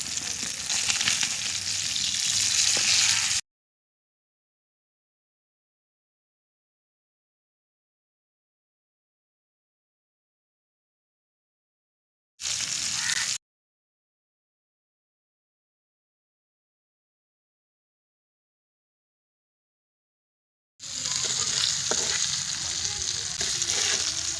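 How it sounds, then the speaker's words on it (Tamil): Fish pieces frying in a pan of hot oil, a strong steady sizzle heard in three separate stretches broken by long silent gaps, close and fairly loud. "பாருங்கள், மீன் அருமையாக வெந்துட்டுருக்கு."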